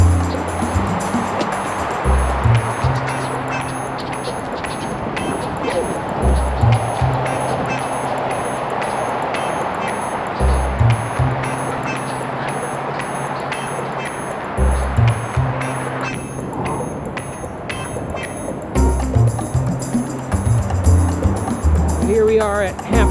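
Heavy wind buffets the microphone while someone rides a motorized bicycle near Hampshire Rocks, with low rumbling gusts and blustery noise running throughout. A voice talks over the roar of the wind.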